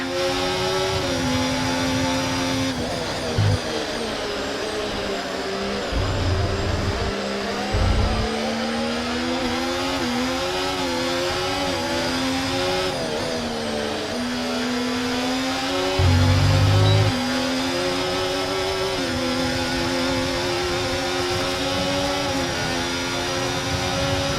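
Formula 1 race car engines in the F1 24 racing game, a race at the Netherlands circuit, shrieking high and loud with continuous pitch sweeps through gear changes, and occasional deeper bursts from nearby cars.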